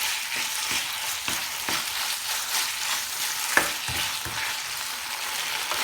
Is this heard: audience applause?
no